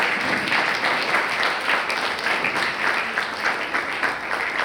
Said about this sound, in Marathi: टाळ्या चालू ठेवायच्या, सगळ्यांनी थांबल्या बघा